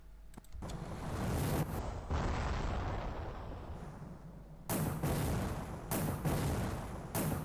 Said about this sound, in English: Alright, explosion.